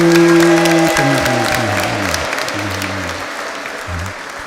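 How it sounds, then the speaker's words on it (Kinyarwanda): Applause rises from a crowd at a 50th wedding anniversary celebration, dense clapping loud at first and slowly tapering off, with steady music tones running beneath it. "Amashyi n'impundu."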